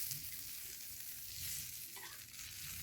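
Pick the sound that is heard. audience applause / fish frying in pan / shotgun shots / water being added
fish frying in pan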